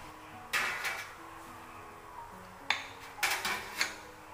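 A lid set down onto a steamer basket holding pumpkin buns, giving a few sharp, close clattering knocks in a quiet kitchen, with a second, busier cluster of small bumps near the end.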